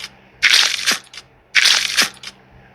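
A wet slime squishes in the Roblox game, two dense crunchy squelching bursts about a second apart, close and fairly loud, each followed by a quieter short squish, with no talking.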